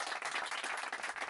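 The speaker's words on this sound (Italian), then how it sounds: "volevo fare giusto questo applauso a questi ragazzi" Brief, fairly faint clapping from a small group, applauding young carp anglers at an outdoor carpfishing enduro in Sicily.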